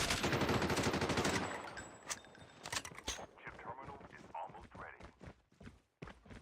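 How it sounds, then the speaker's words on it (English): Automatic gunfire from a Call of Duty Mobile esports match: a dense, loud burst of rapid shots at first, then scattered, quieter bursts and clatter with what sounds like a voice underneath. "Nice shot from Nagdi."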